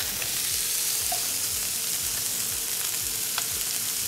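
Quinoa with spinach and chili frying in a pan, a steady close sizzle with a few soft stirring scrapes, no talking.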